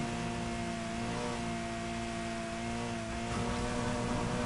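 A turbocharged Subaru BRZ in Need for Speed Heat accelerates with a loud, steady engine drone, its tone holding and slowly climbing across a few seconds with no talk.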